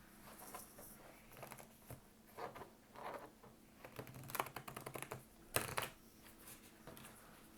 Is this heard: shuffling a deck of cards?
yes